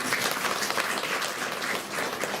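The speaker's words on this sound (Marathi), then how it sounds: "आपण त्यांच्यासाठी टाळ्या वाजवूया" Audience applause at a Beti Bachao event in Ahmednagar, brisk dense clapping at a steady level across the brief stretch, with no speech over it.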